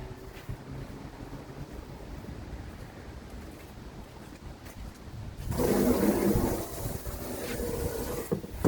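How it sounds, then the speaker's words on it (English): Cold tap water rushes steadily into a container, a broad hiss that swells in loudly partway through and keeps running close by. "now I get to fill it back up with freezing cold"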